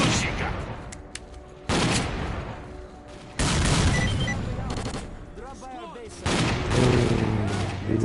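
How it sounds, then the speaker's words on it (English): Automatic weapon fire rattles in the S.T.A.L.K.E.R. Clear Skies video game, loud bursts of gunfire that come and go in sections, with voices heard in the mix. "Or one of y'all were firing an automatic"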